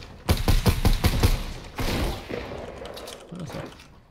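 A quick volley of muffled shots from a suppressed SCAR rifle in Fortnite thuds out in rapid succession, followed by a softer rumble and a couple of faint later taps.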